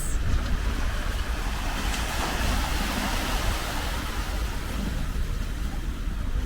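Sea waves wash against the shore right beside a holiday villa, a dense, steady surf roar that stays loud and unbroken with no voices.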